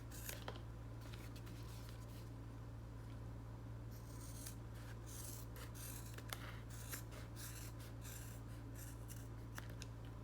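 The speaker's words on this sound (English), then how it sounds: "you're going to cut the extra fabric off" Scissors snipping excess fabric off a machine-sewn reusable cloth bag, a steady run of quiet close cuts and rubbing over a low background hum.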